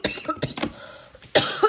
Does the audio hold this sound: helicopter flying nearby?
no